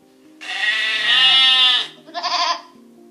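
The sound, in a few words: lamb bleating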